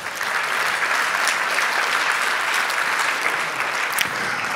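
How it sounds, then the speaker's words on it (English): At a water summit, a large audience gives a steady round of loud, dense applause that holds evenly throughout with no voices above it. "Give him another round of applause."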